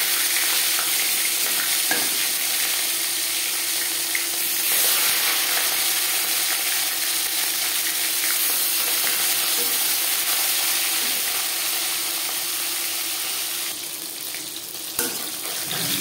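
Marinated fish frying in about four spoons of hot refined oil in a pan, a loud, steady, continuous sizzle close up that holds for the whole stretch with little change.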